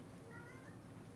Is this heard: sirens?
no